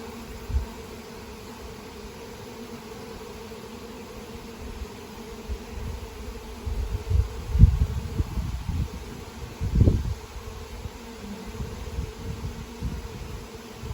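Low insect buzzing hums steadily in the background, with a few louder swells as something passes close by.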